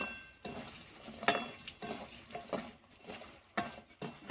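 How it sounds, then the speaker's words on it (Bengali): Homemade urad dal bori fry in a pan as a spatula stirs and scrapes in a steady rhythm of light knocks over a soft, quiet sizzle. "এবার আমি বড়ি ভেজে নেব"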